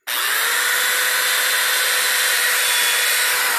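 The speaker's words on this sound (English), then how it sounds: "I'm going to drill" A power drill drills into wood from a pallet at close range, a high steady grinding buzz that starts abruptly and runs without pause.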